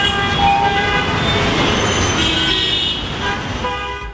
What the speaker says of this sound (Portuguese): Parece até que eles estão competindo para ver quem buzina mais alto.